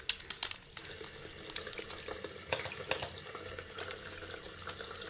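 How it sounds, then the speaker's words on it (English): Warm water runs steadily from a tap while hands are washed beneath it, with splashes and drips breaking the flow, close and alone. "Wet your hands under warm running water and add soap."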